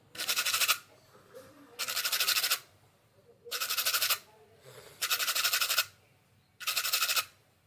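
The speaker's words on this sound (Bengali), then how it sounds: "আমি এখন চেষ্টা করব গঙ্গার জলে এটাকে ভালো করে ভিজিয়ে তারপর ব্রাশ দিয়ে এটাকে পরিষ্কার করার" Repeated bursts of stiff brush scrubbing on a rudraksha bead soaked in Ganges water, five firm strokes of about a second each with short pauses between, close and clear.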